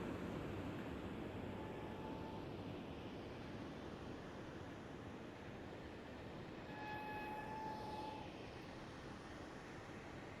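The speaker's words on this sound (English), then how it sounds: "Familiar squealing of the coaches on the way out" Class 90-hauled sleeper coaches roll out of a station in Train Simulator Classic, a steady rumble of wheels on rail with thin, drawn-out squeals rising twice over the noise, fairly quiet overall.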